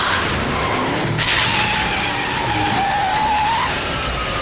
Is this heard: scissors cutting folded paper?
no